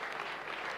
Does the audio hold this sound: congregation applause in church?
yes